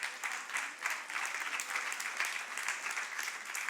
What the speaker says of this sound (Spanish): Dele la gloria y el aplauso al Señor.